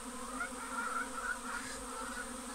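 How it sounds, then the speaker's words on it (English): Steady, dense buzzing of many bees coming into a hive box close by, a continuous droning hum with slight swells, no voices. "this is all the bees coming in"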